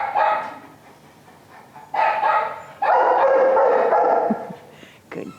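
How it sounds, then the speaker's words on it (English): A roughly one-year-old female Border Collie Lab mix barks and yips in several close, loud bursts separated by short pauses, at an adoption event. "Border Collie lab mix, possibly, of some sort."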